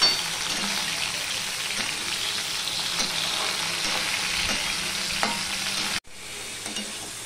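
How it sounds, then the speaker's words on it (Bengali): Pointed gourd (potol) pieces with a little salt fry in a pan, giving a steady dense sizzle with light stirring scrapes, then a brief sudden drop before the frying hiss resumes more quietly. Nobody speaks. "দিয়ে পটলটা আমি ভেজে নেব"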